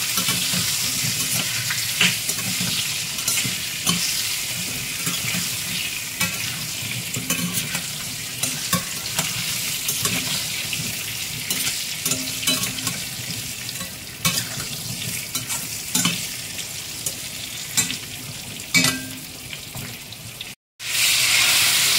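Pointed gourd pieces coated in turmeric fry in oil with a continuous close sizzle, punctuated by repeated spatula stirring and scraping against the pan throughout, with a brief pause near the end.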